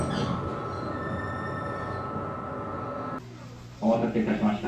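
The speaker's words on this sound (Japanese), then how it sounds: "ここからは普通列車の久保田、佐賀、新鳥栖方面の鳥栖行き普通列車に乗り換えていきます" A Japanese local train in northern Kyushu hums and rumbles steadily with faint wheel squeal, then the sound cuts to a quieter interior where a louder tonal chime or announcement tone sounds near the end.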